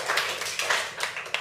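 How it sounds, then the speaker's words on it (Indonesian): Students in an economics class clap for a presenting group, a brief, quiet patter of scattered hand claps in a room. "Kita berikan tepuk tangan sekali lagi untuk kelompok"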